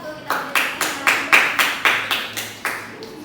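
A classroom of students clapping together for a student group's presentation: about ten loud, evenly spaced unison claps in a steady rhythm, close and clear.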